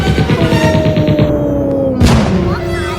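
Rapid, rhythmic bursts of machine gun fire from a Siren Head video game, loud and repetitive, followed by a heavy boom and fading rumble.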